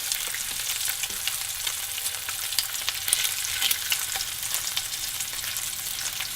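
Rice malt syrup frying in a pan for an American salad, giving a steady, dense sizzle with crackling pops that runs unbroken throughout, close and fairly loud, with no talking.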